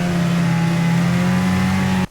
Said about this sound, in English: there's lots of riding on a snow machine